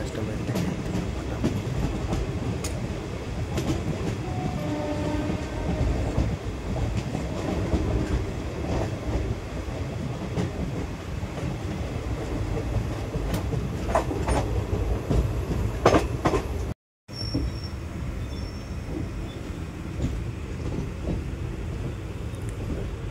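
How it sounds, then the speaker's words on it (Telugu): Guntur–Aurangabad Express pulling away across the Karnataka–Maharashtra stretch, heard from on board as a steady rumble with repeated clickety-clack of wheels over rail joints and occasional squeals, briefly cut off before resuming. "ట్రైన్ అయితే ఇప్పుడు కర్ణాటక నుంచి మహారాష్ట్ర బయలుదేరి వెళ్తుందన్నమాట"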